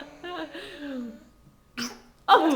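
A person gives a sharp sneeze, likely feigned, near the end of a short stretch of speech-like vocalising and a quick breath, loud and close.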